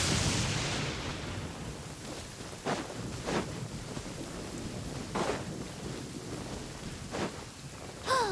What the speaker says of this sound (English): Hey, it's just a little lightning.